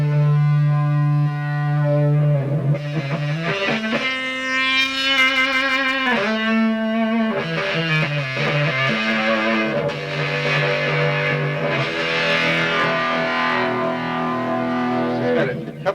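An electric guitar through a fuzz distortion pedal plays sustained fuzzy notes and slides, loud and buzzy, shifting pitch over a long continuous passage.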